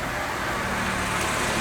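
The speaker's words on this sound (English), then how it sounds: "There's a car just going past." A car passes on a road near Forest Row, a steady broadband whoosh of tyres and engine that holds at a fairly constant level throughout, with no voices.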